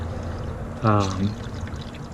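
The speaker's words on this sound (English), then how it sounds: "This is 50/50 antifreeze water, GM's DexCool brand" Coolant, a 50/50 mix of GM DexCool antifreeze and water, pours into a Chevy S10 cooling system in a short, close gurgling stream under a voice.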